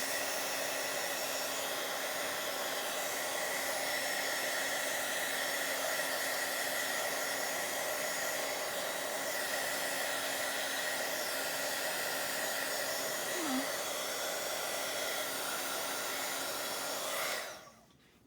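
A hair dryer blows steadily to dry wet stencil ink on paper, a loud, even whirring hum running close and unbroken for many seconds before it cuts off at the end.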